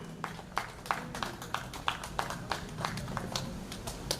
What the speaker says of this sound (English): can you give yourselves a round of applause just for being here this afternoon?